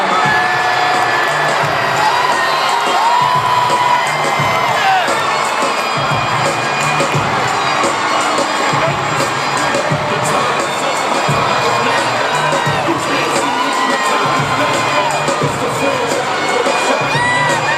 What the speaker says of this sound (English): Look at this crowd right now.